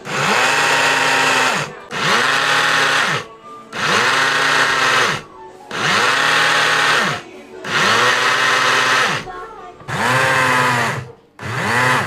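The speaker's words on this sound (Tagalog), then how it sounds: "ang gagawin ko ay i-blender ko na para maging powder" A blender grinds dried malunggay leaves into powder in a series of loud whirring bursts of about a second and a half each, separated by short pauses, the motor pitch dipping and recovering within each pulse.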